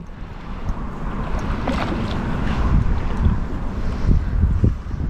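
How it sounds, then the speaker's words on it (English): Strong wind at Tzaneen Dam in South Africa roaring and buffeting across the microphone, a loud continuous low rumble with gusty swells and no talking. "The wind is howling loudly."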